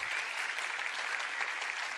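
Sustained, dense applause from a studio audience on a Turkish TRT music program, honoring a singer; steady clapping with no talk, even and full throughout.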